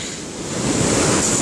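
Pacific Ocean surf on a deserted shore rolls in as a broad, steady roar that swells slightly louder, with wind buffeting the microphone and no voices.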